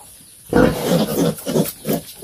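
A piglet of about five kilos squeals loudly in repeated harsh bursts while being given an antibiotic injection on a pig farm, close and alone.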